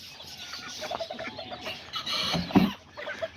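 Aztecas hens and roosters clucking in a backyard flock, a scatter of short soft clucks from several birds at close to middle distance, with one louder squawk partway through.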